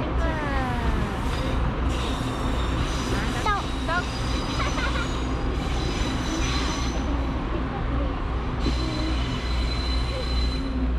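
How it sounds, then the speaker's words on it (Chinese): A small train rumbles past on a walking trail, wheels squealing and rattling continuously at close range, with voices talking over it. "小火车"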